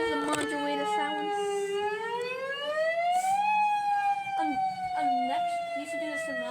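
A loud modulator siren under test slides up in pitch, peaks, then drifts down, with brief choppy bursts near the end; a voice speaks faintly partway through.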